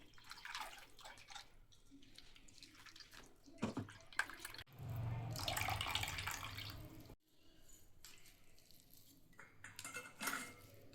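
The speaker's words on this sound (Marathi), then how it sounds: "चला तर आपण आता खीस गाळून घेऊया।" Finely ground grated coconut mixed with water is strained for coconut milk in a home kitchen: faint dripping and trickling liquid, clinks of a utensil against a pot, and a burst of pouring in the middle.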